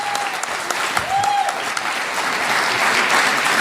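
An audience applauds a comedian after a first solo stand-up show, a dense, steady wash of clapping with speech over it.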